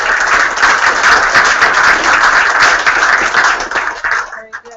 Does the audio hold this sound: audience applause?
yes